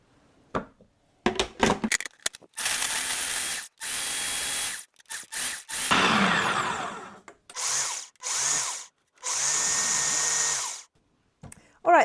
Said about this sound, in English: I'm going to just drop that straight into the food processor and give that a whiz